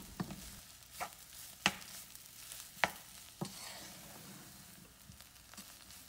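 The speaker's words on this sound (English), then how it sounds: "now I'm gonna add the boiled potatoes and mix it really well" Boiled potatoes are mashed and mixed into an egg cutlet mixture in a pan, giving faint scraping and stirring with several sharp utensil knocks spaced irregularly against a quiet background.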